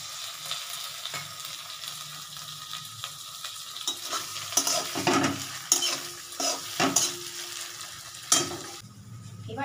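Chopped tomatoes sizzle in a hot pan while a spatula stirs them, with a soft, steady frying hiss broken by several scraping knocks against the pan, close up and with no talk.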